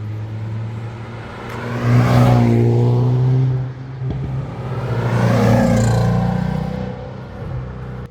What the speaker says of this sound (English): That is probably the quietest GT350 I've ever heard.